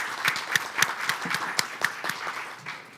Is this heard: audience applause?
yes